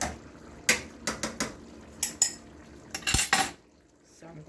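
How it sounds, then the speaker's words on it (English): Metal utensil clattering and scraping against a pan while cilantro is stirred into chicken cacciatore off the heat, a run of sharp irregular knocks and clinks, close and loud, with quieter gaps between. "I'm gonna just stir in here the cilantro"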